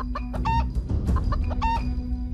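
A cartoon rooster clucks in sharp, squawky bursts as it flees a chase, about three close calls, loud and near over a steady low background hum.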